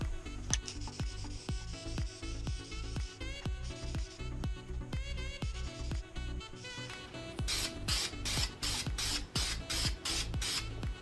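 Spray can coats 1985 Corvette C4 L98 Tuned Port Injection engine parts in a second layer of paint: a run of short, regular hissing bursts in the second half, loud over steady background music.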